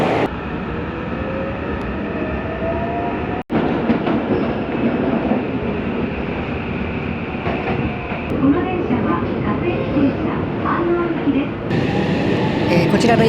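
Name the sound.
commuter train arriving at platform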